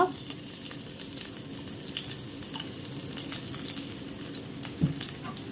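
Garlic, ginger and green chillies frying in hot oil in a pan, a steady close sizzle running throughout with faint scraping clicks and one brief louder knock near the end.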